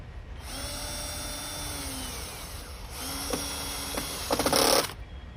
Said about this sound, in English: pre-drill another hole